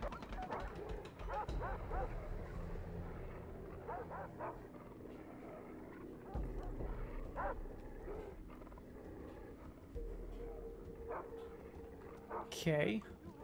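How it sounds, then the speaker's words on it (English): Dogs barking in the video game Far Cry 3, several sharp yips and barks scattered over steady game sounds and background noise, with a louder burst near the end. "they got a lot of dogs"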